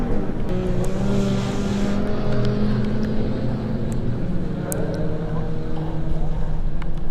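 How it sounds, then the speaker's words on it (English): BMW Mini race cars at Croft circuit, engines droning and revving loudly in a continuous blend of passing cars, with a commentator talking over the racing. "These BMW Minis really do make for fantastic race cars."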